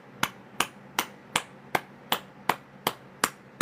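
Evenly paced hand claps in a qigong routine, about nine crisp close strikes in a row, each sharp with a quick decay, alone without speech.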